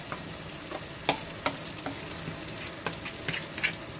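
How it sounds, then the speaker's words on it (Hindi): Marinated mushrooms and masala frying over a high flame: a steady hiss of sizzling oil broken by scattered pops and the scrape of stirring, close and alone. "इसे जो है हम 2 मिनट हाई फ्लेम पे भून लेंगे, क्योंकि जो मशरूम होते हैं उसमें काफ़ी जो है पानी होता है"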